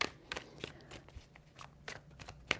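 Tarot cards shuffled quietly, a string of faint close riffles and light papery taps spread evenly over a couple of seconds.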